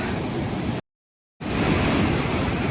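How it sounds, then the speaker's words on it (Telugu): Steady, loud rush of falling water at Kalyan Revu waterfalls, a dense broadband roar that cuts out briefly in the middle before resuming. "వాటర్ ఫాల్ ఇది చూడండి"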